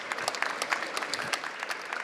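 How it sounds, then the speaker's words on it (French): Audience applause fills a conference hall after a panel on circular economy in construction, a steady patter of many hands clapping with no voices over it, lasting about two seconds. "Merci, on les applaudit."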